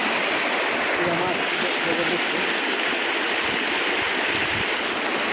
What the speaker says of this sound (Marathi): पावसाला पुन्हा एकदा आमच्या नदीला पाणी आलेलं आहे